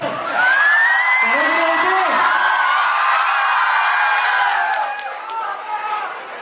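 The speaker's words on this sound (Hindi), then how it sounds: "भाई हुटिंग होते रहने चाहिए" A loud crowd at a college event hoots and whoops, with long wavering yells stacked over a continuous roar of cheering and chatter that swells early and tapers near the end.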